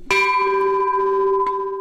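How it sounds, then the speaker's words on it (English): A brass ship's bell from the paddle steamer Maid of the Loch is struck once, giving a loud, close clang with a long sustained ring, and a second lighter tap sounds near the end. "The most important one is the ship's bell."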